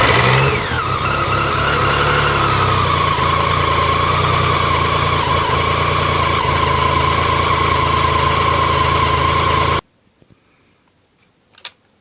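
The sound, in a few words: BMW K75 motorcycle engine starting and running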